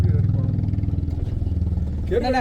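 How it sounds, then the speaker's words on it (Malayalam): A motorcycle engine drones steadily along a village road near Kambam, Theni, its low hum holding throughout, with a voice breaking in briefly near the end. "ബൈക്ക് ആ ബൈക്ക്"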